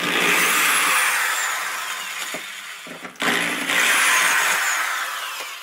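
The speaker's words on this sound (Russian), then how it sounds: "удаление старых иллюминаторов, что можно сделать либо с помощью простой отвертки, либо, что гораздо более эффективнее, с помощью дрельки" Electric drill whirring at high speed while removing old portlights, a steady close whine that dips briefly in pitch and load before spinning back up loudly.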